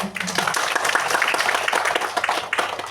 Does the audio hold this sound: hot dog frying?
no